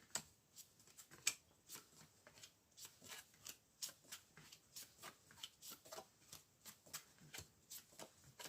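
Tarot cards shuffled and drawn by hand, a steady run of soft papery flicks and riffles, close and quiet, with a few sharper snaps near the start.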